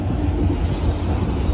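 A train leaving a station at Port Jervis, New York rumbles steadily with a low, continuous roar, fairly close and without any voices.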